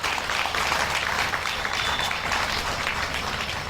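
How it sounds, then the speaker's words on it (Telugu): An audience at a religious gathering, an Ashtalakshmi yagam discourse, claps loudly in a dense, continuous wash of applause that holds steady throughout without speech over it. "చప్పట్లు కొట్టండి గట్టిగా"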